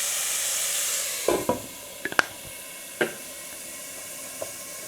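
Meat and onion frying in a pan over a lowered flame, a steady loud sizzle and hiss with a few sharp clinks and scrapes of stirring scattered through.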